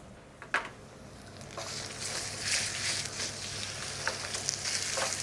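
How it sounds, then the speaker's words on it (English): Chicken frying in vegetable oil in a pan gives a steady close sizzle and crackle that holds throughout, with a few sharper pops and stirring scrapes along the way. "we really just want to get that fried off until it starts to turn white"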